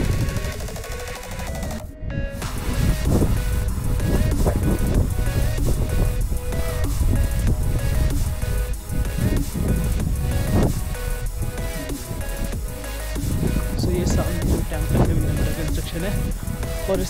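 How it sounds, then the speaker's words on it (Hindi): Strong wind roars steadily and loudly across the microphone in Spiti Valley during light snowfall, a dense, buffeting rush with a brief drop near the start and no clear pauses. "हवा चल रही है प्लस थोड़ा थोड़ा स्नोफॉल हो रहा है थोड़ा बहुत।"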